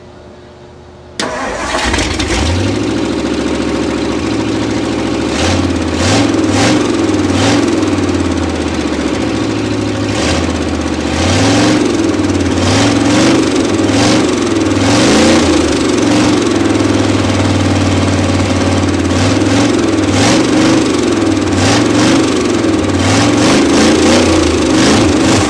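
A Ford Thunderbird engine cranks, catches and runs with a steady loping idle for over twenty seconds, loud and close, with no voices, running with its fuel line disconnected until it runs out of gas.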